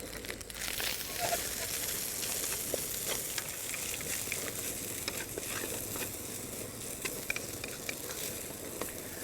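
Jasmine rice frying in a wok, a steady dense sizzle with occasional stirring scrapes and crackles running continuously throughout.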